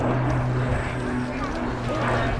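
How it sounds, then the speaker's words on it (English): Steady drone of an RAF Beech B200 King Air's twin Pratt & Whitney PT6 turboprop engines at an airshow, a continuous distant hum with a low tonal whine, recorded with wind noise. "This aeroplane, pair of Pratt & Whitney PT6 turboprop engines, make it very quiet and very, very efficient."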